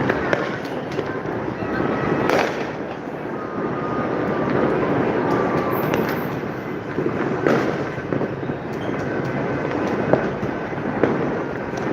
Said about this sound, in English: Yeah, but there are fireworks.